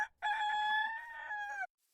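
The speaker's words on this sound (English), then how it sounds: "That chicken was very loud." A chicken crows loudly in a Pokémon-style video game, one drawn-out cock-a-doodle-doo of about a second and a half that ends abruptly, with no talk over it.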